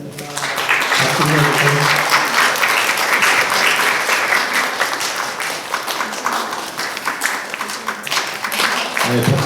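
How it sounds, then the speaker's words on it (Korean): A church congregation at a Parents' Sunday service applauds, dense sustained clapping filling the room, with voices mixed in beneath it. "박수 좀 계속 쳐주세요"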